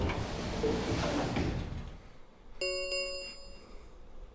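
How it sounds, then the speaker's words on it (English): Rumbling, noisy slide of warehouse doors in Virtue's Last Reward, fading out and ending in a bright metallic clang with a ringing tail; close and fairly loud, no talk. "the warehouse was filled with the rumbling sound of the doors sliding shut"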